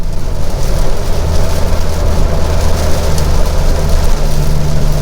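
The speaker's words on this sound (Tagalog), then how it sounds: "Lakas ng ulan, grabe." Steady, loud broadband rush of heavy rain on a moving Honda City on the NLEX expressway, with a low engine and road rumble underneath, continuous throughout.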